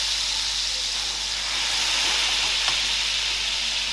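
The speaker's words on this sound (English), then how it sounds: "I'm getting my ravioli in there." Fresh homemade ravioli go into a hot pan where the fat has turned nutty and golden, giving a steady, close hissing sizzle that carries on evenly throughout, with no talking.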